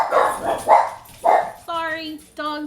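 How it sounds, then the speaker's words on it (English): A dog barks close by, a few sharp barks spaced out over a couple of seconds, loud and with no talk over it. "Sorry, dog's barking."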